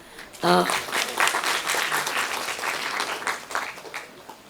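An audience at an exhibition inauguration breaks into sustained applause, starting abruptly and clapping steadily throughout, with a brief voice at the very start.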